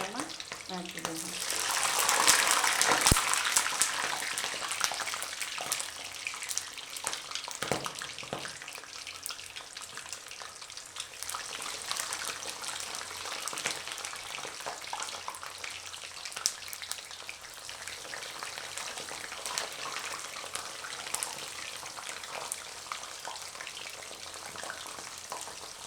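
Eggplants frying in hot oil in a home kitchen while a Hyderabadi dum baigan is made, with a loud burst of sizzling as they go into the pan that settles into a steady, crackling fry.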